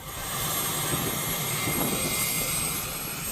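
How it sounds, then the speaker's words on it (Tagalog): Philippine Air Force Sokol helicopter flying on a typhoon relief operation: a loud, steady engine and rotor roar with a high whine, continuous and close, without voices. "Patuloy rin ang pagtulong ng Philippine Air Force Gamit ang kanilang Sokol helicopter"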